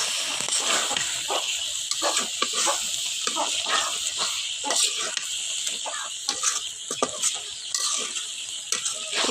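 Sesame curry frying in a pan with green chillies just added, a loud continuous sizzle with irregular stirring scrapes and crackles throughout, close and steady.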